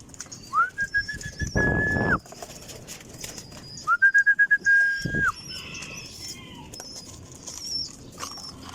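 Pet pigeons kept at home give two drawn-out, rising calls a few seconds apart, each overlapped by a rough, noisy burst like wing flaps, with faint chirps and soft background sounds between them.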